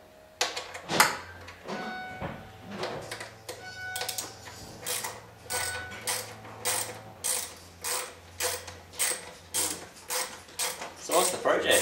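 A socket set ratchet clicks steadily in close, repeated strokes during removal of a Vectrix electric scooter charger, a rhythmic pawl rattle about once a second with a faint hum beneath.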